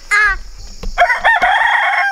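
A young rooster crows up close, a loud, strained, cracking call that breaks off and resumes in a ragged second part.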